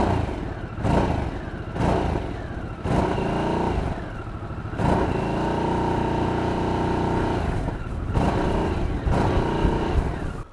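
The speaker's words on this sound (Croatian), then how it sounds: "da probam da ga upalimo, da čujete kako zvuči sa fabričkim izduvom" A Harley-Davidson Sportster S with its Revolution Max V-twin engine and stock factory exhaust idles with a deep, loud rumble. Several sharp throttle blips punctuate it, then a steadier stretch follows before more revs near the end.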